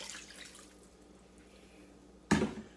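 A cup of water is poured into a crockpot over brown gravy mix and cream of mushroom soup for beef tips. After a quiet stretch, a single short, sharp splash is heard close by.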